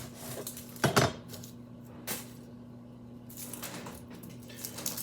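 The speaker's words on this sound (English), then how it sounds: "Gotta cut the ends off my onion." Kitchen knife cutting the ends off an onion on a cutting board, a few sharp, close chops and knocks spaced unevenly over a steady low background hum.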